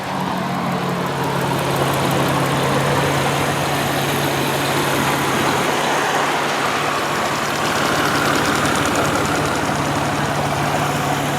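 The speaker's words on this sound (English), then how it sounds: "24 valve, 6-cylinder engine, purrs like a kitten" A 24-valve six-cylinder engine in a 2004 Suzuki Verona EX idles steadily for the whole stretch, a smooth, even, continuous hum with a low tonal drone and no speech over it.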